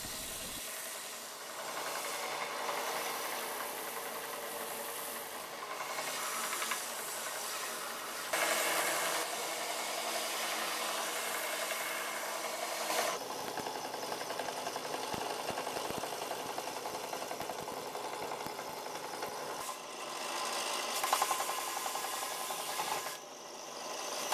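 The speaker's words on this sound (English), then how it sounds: "I use the sander over here to shape it up a bit" A sander shapes a wooden block for an instrument neck, giving a continuous close hissing grind with rasping strokes that surge and ease as pressure changes, running without pause.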